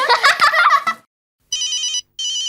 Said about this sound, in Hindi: अरे लगता है बॉस का फोन आ गया।